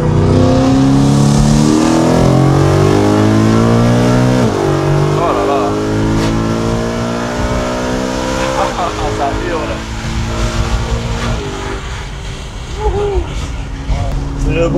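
BMW M3 E92 engine revving hard near the listener, with rising and falling pitch sweeps across several throttle pulls and a loud, raspy roar, while people talk excitedly over it.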